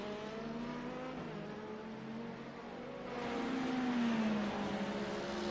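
Race cars braking into the hairpin at Sebring in a racing game, a steady engine drone whose pitch swells, then slides downward as the cars slow, heard alone without talk.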